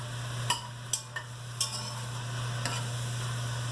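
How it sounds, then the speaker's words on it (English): Zucchini and onions sautéing in a pan for zucchini soup, a steady low sizzle under a few sharp utensil scrapes and taps near the start, close and moderately quiet, no talking. "saute it, until the zucchini starts getting soft and the onions start getting translucent"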